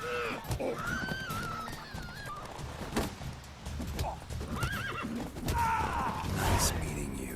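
A horse in the video game The Witcher 3 neighs loudly several times over a clip-clop of hooves, with voices talking underneath.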